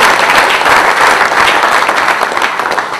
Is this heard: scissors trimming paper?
no